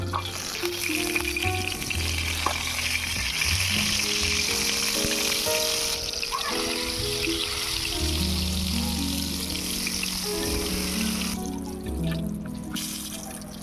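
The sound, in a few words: eggplant slices frying in hot mustard oil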